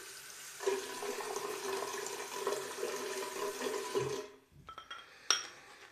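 Tap water running steadily into a container while a soap mixture is prepared, a faint even flow for about four seconds that cuts off, followed by a few light clinks.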